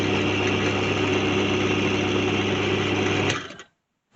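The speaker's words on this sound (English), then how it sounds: "That clanking, rattling noise. There. That's that bearing cover." A Myford ML8 lathe with a rattling bearing cover runs with a loud steady mechanical whirr and faint rattle, then spins down and stops abruptly near the end, leaving near silence.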